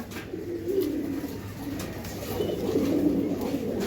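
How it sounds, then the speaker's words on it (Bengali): A pair of Giribaz pigeons cooing softly and steadily at close range, low murmuring calls rising and falling throughout with faint background noise and no speech. "এই এক পেয়ার কবুতর"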